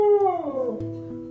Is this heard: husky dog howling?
yes